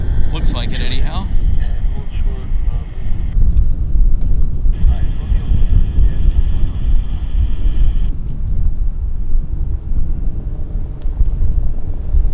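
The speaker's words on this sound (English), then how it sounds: "we got another WestJet taxiing out as well" A WestJet airliner taxiing at Vancouver Airport gives a steady engine rumble with a high tonal whine that rises and falls, under nearby wind buffeting and a talking voice.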